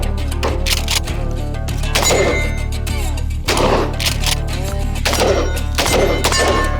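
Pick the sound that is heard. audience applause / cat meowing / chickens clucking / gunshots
gunshots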